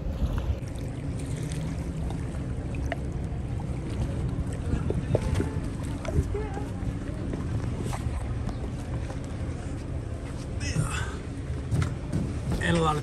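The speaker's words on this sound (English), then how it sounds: "So now we're just gonna get onto the boat," A motor boat's engine rumbles steadily over lapping river water in Egypt, with scattered knocks and bumps and a few faint voices in the background.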